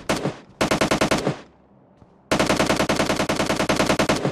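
Rapid automatic gunfire in the PUBG Lite video game, two quick bursts, a short near-silent pause, then a longer sustained burst, loud and close with no talk.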